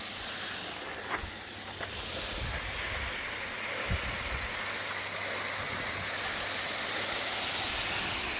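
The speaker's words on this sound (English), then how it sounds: "On the trail, coming up on a little waterfall." A small waterfall feeds into the Allegheny River beside a rail-trail, giving a steady, soft rushing wash of water that continues without a break, with a couple of faint knocks in the background.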